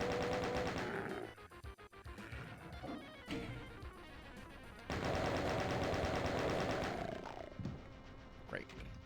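Gunfire blasts against a Baron in the shooter game Doom, bursts of shots with monster roars mixed in, loud and near, while someone talks over the fight.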